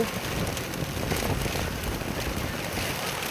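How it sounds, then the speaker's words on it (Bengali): Heavy, continuous rain pours down after days of downpour, a dense even hiss of drops on surfaces with slight wind noise, steady and loud, no voices. "আজকে অনেক বৃষ্টি, যা থামার কোনো সম্ভাবনা দেখা যাচ্ছে না"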